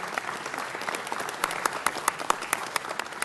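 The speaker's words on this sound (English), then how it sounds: "Let's give them one more round of applause." An audience at a city council meeting claps, starting as a light patter and growing into sharper, distinct claps from nearby hands, fairly quiet overall.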